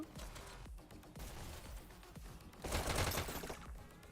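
Rapid SMG gunfire from a VR esports shooter match, dense overlapping bursts of automatic fire running throughout at close range, swelling louder near the end with no talk over it.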